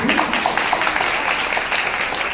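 An audience at a Jain religious discourse claps together, a short burst of steady, moderately loud applause with a faint voice beneath it.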